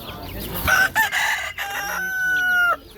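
A rooster crows loudly and close by at a poultry market in Jomashuy, Uzbekistan, its long drawn-out call following some brief clucks and bird noises.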